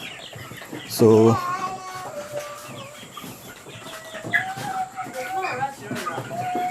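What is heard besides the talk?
broiler chickens clucking on poultry farm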